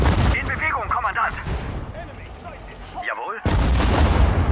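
Artillery fire in the Sudden Strike 4 World War II strategy game: heavy booming cannon shots and crackling gunfire roll through a loud battle soundscape, with a sharp fresh blast near the end.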